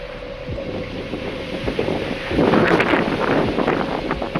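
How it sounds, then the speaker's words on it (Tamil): Strong wind buffets a hilltop temple in Karur, a rough, gusty roar against the microphone that surges louder partway through, with no voices. "நீங்கள் காற்று எவ்வளோ அடிக்குது பாருங்களேன்."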